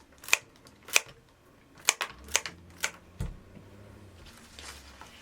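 Several crisp, separate snips as scissors cut rose stems for a hand-tied bridal bouquet, six sharp clicks spaced unevenly in a quiet room, with a soft thump and rustle after.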